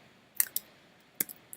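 Typing a search into a computer keyboard produces a handful of sharp, close key clicks in two small bursts separated by a short gap, over a quiet background.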